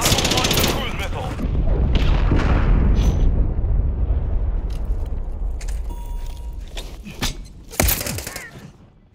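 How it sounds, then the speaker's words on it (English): Large blasts and heavy gunfire from a cruise missile strike in Call of Duty Modern Warfare 3, during a hardcore Domination match. A loud rumbling barrage runs throughout and slowly fades, broken by a few sharp cracks near the end, with game voice callouts mixed in. "Hostile launch the cruise missile."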